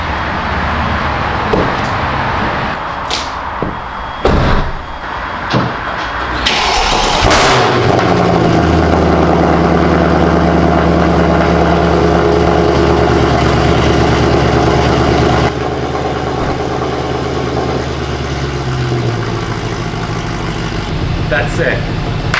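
A boosted Acura TL engine cranks and catches around the midpoint, then settles into a steady, loud idle that runs to the end, with a few clunks and door-like knocks before the start.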